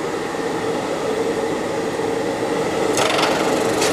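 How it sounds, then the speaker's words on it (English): A knee milling machine spins a shell mill at about 1100 rpm as it is raised to barely touch the face of a steel block, a continuous close grinding whir that grows slightly brighter and scratchier near the end. "I'm gonna bring my knee up to the shell mill with the spindle on and barely touch that face."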